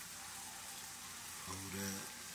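Tomatoes cook down in a pan with a soft, steady sizzle and faint bubbling, low and close, while a voice speaks briefly over it near the end.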